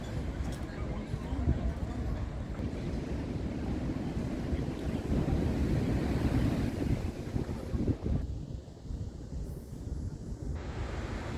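Waves on a black sand beach, a rough continuous rush of surf mixed with gusting wind buffeting the microphone, loud and steady.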